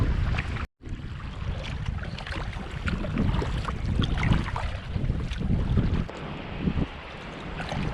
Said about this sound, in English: Fighting directly into the wind.